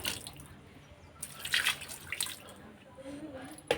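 Water poured and splashed while cleaning a house, heard as uneven watery bursts and drips close by, with voices in the background.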